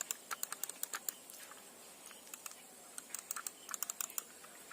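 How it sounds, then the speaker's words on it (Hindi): Typing on a new computer keyboard, faint clicky keystrokes in irregular bursts with short pauses, close but quiet against a low background hiss, no talking. "और टाइपिंग वगैरह तो ठीक ठाक लग रहा है।"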